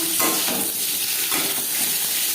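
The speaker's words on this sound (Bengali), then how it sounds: "পনির ভেজে নেওয়া তেলে আলু ভেজে নেব" Potatoes fry in oil left over from frying paneer, giving a loud, steady sizzle with a dense hiss that holds throughout, close up and with no talk.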